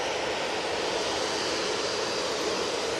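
A Jet2 Boeing 737-800 jet airliner at Manchester Airport gives a loud, continuous broadband engine roar that holds steady throughout, with no talk.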